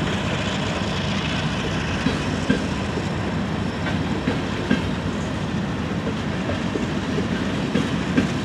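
Freight train cars, including intermodal trailers and Tropicana cars, roll steadily past nearby, a constant rumble with faint rhythmic clicks from the wheels, continuing throughout without voices.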